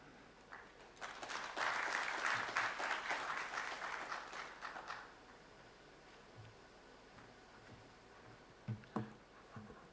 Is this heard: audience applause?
yes